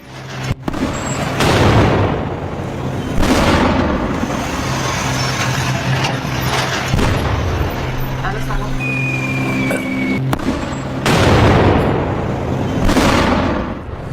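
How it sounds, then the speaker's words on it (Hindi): Deep booming blasts from an air strike on the city of Isfahan roll out at intervals over a constant low rumble, with excited voices talking throughout. "इस्फहान शहर पर जबरदस्त धमाका किया गया"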